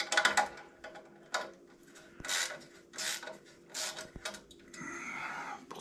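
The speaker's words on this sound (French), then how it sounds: "Pour cela, j'utilise une clé Torx 25. Je desserre tout d'abord les vis." A Torx 25 key loosens the screws on an exhaust heat shield, giving close, short ratcheting and scraping bursts with sharp metallic clicks, separated by quiet pauses.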